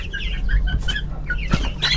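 Clucking from several grown native chickens being raised as future breeders, with short bursts of calls overlapping at close range against a steady low rumble and faint background noise.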